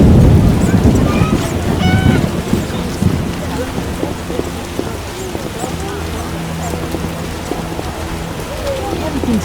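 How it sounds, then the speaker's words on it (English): Heavy rain falling in The Witcher, a loud steady wash of downpour with low rumbling underneath, constant throughout with no voices. "Has rained hard lately."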